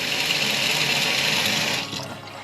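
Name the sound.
cold water running from bathroom faucet in Jayco Eagle RV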